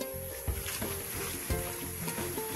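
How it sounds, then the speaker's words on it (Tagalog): Water rushes in a steady, broadband hiss down a sloping creek on a rural property in Tagkawayan, Quezon. It carries on continuously and fairly close, with a few soft knocks or splashes over the flow. "Ayan, lumalagaslas po ang tubig."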